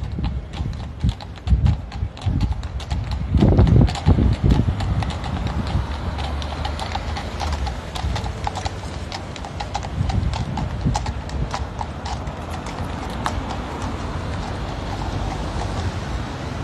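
Hooves of a horse-drawn carriage near Buckingham Palace clip-clop in a steady walking rhythm, moderately close, with gusty wind and faint street noise around them.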